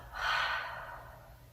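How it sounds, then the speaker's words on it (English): A single long exhale through the mouth during a yoga breathing exercise, close and soft, swelling quickly then tapering off over about a second and a half. "And then exhale through the mouth."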